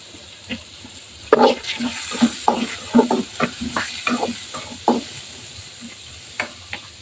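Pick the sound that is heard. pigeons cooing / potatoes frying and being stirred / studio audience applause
potatoes frying and being stirred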